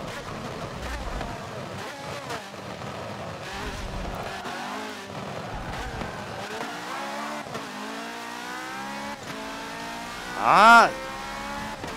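A Mercedes race car in Forza Motorsport 7 on the Suzuka Circuit accelerates with rising engine pitch through gear changes, a steady loud drone with a brief squeal-like spike near the end and a short spoken exclamation.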